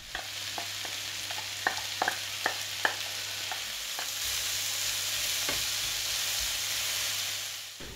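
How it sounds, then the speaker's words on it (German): Onions frying in a pan over high heat, a loud continuous sizzle with a series of sharp utensil knocks early on, then steady hissing with occasional stirring. "Das Ganze findet natürlich bei hoher Hitze statt und nach ein paar Minuten geben wir auch schon die Zwiebeln mit hinzu"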